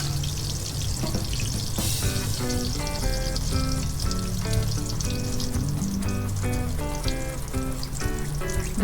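Tortang talong, an eggplant omelette, crackles and sizzles continuously in hot oil in a pan, with music playing over the frying.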